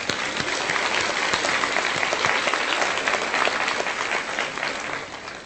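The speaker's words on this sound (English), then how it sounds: "we can clap for her" Audience at the Pamlico County High School class of 2016 graduation ceremony breaks into steady, dense applause, loud and unbroken from start to finish.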